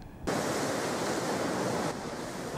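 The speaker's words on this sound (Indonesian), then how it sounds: "Ombak setinggi 3 meter lebih menghempas bibir pantai" Surf over three metres high crashes against the shoreline during stormy weather off Majene, West Sulawesi, a loud, continuous broadband roar that swells in and then eases slightly, with no voices.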